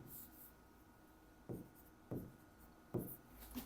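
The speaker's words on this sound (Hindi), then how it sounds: "हल लिखेंगे पहले" Pen or chalk writing out the solution to a quadratic maths problem, faint scratchy strokes arriving in three or four short bursts over quiet room noise, no speech over them.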